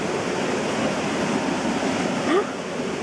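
Water rushes steadily through a cave tunnel on the Ruakuri bushwalk, a loud, unbroken roar filling the whole stretch with a faint brief tone near the end.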